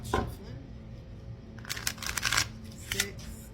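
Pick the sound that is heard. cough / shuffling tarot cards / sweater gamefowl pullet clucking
shuffling tarot cards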